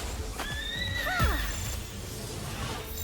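A horse in the video game Palworld lets out a loud, clear neigh that rises and falls over a second, heard up close against a steady background of game ambience.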